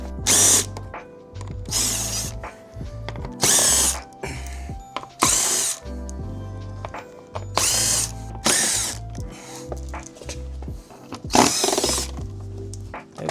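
A power tool removes screws from the body of a BMW G90 M5 during a carbon body kit install, in loud, close, repeated bursts of whirring and ratcheting separated by brief pauses, with no talking.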